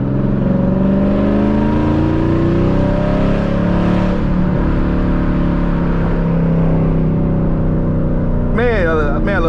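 A Dodge Challenger on the road, its engine droning loudly and rising as it accelerates, with a short burst of voice near the end.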